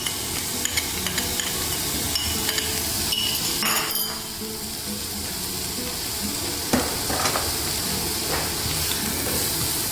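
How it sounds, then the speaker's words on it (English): Onions and leftover ginger garlic paste fry in a pan for a chickpea and chicken ghugni, a steady close sizzle with occasional stirring scrapes and light clinks of a utensil against the pan. "we're going to fry these till they're browned"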